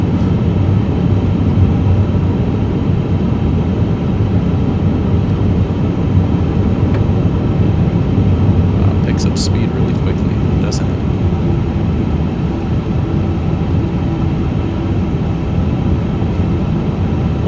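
iniBuilds A350 airliner taxiing at Atlanta in MSFS 2024, a steady loud jet engine rumble and broadband roar throughout, with brief higher clicks near the middle and a voice talking over it.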